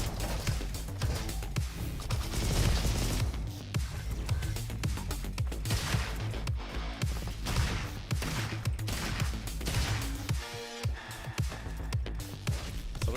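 Dense, rapid turret gunfire in the RoboQuest shooter game, loud bursts of shots rattling almost continuously amid chaotic combat noise.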